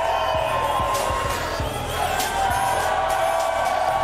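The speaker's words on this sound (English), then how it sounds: "And the crowd just erupted here in Orlando, Florida." A wrestling crowd in an Orlando, Florida arena roars and cheers loudly and continuously, with whoops rising over a steady wash of noise and a few low thumps.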